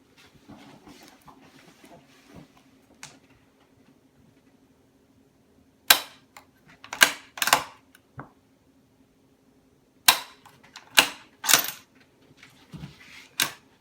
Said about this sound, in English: We'll go ahead and we'll pull the trigger.